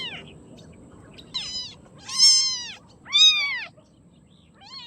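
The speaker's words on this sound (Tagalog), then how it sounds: "Anak ng anak ng pusa" Rescued kittens, found thrown in the trash, give several high, thin meows in short bursts, close and fairly loud over a quiet background.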